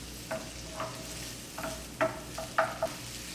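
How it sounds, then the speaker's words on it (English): Onions and pimentos sauté in melted butter in a pan for scalloped potato sauce, with a soft steady sizzle and a few light spoon scrapes and taps as they are stirred, fairly quiet and close. "once the butter is all melted there, in goes the onions, the pimentos. So you're just cooking this for about a minute or so"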